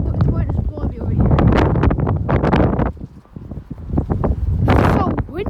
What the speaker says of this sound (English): The wind is blowing me over here.